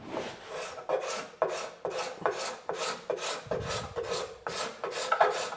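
Steady rhythmic rasping strokes of a card scraper across a wooden cutting board, removing file marks, about ten close, even passes with brief pauses between them.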